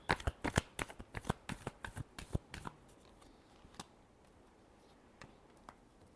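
Tarot cards are shuffled close up, a quick series of crisp riffling snaps and slaps for a few seconds, then quieter faint card handling with a couple of isolated taps.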